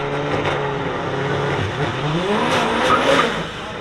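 A Proton Satria Turbo launches at a drag race, its engine roaring and revving with a brief tire squeal amid the busy crowd noise of the event, loud and fairly close throughout.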